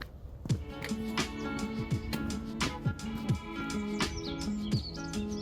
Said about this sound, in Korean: 하산길은 새들과 함께하게 될 것 같습니다.